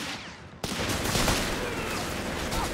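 Gunfire erupts in a Company of Heroes 3 multiplayer battle with British forces and heavy tanks: a sudden burst of dense overlapping shots and rattling fire that keeps going loud and continuous after a quieter opening.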